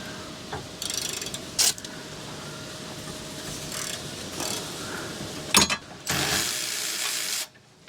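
A ratchet wrench works loose the 17 mm caliper bracket bolts on a 2011 Honda Pilot's rear brakes, with rapid ratcheting clicks, metallic clanks and a longer grinding burst close by, no speech.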